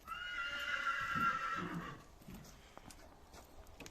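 A Polish cold-blooded draft mare in heat gives a loud, drawn-out whinny lasting about two seconds, then fades into quieter stable noise with a few soft thumps.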